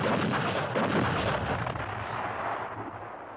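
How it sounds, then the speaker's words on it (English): Heavy artillery fire pounds the valley floor at Dien Bien Phu, a loud rumbling boom that rolls and slowly fades over a few seconds. "The communist artillery dramatically reveals its presence, pounding the unsuspecting French on the valley floor below."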